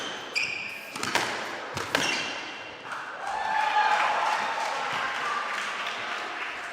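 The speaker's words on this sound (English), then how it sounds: "The crowd cheering him on, hoping for a miracle" Spectators cheering at a professional squash match, Philadelphia Lightning versus Greenwich Panthers; a few sharp ball strikes and thuds early on, then a swelling wash of crowd cheers and applause, moderately distant and fairly quiet.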